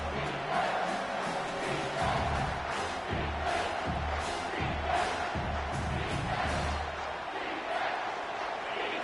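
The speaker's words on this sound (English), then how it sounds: "this crowd is bringing down the house" A football stadium crowd roars loudly and without a break during a tense third-down play in the fourth quarter, a dense, sustained wall of cheering with surges of noise.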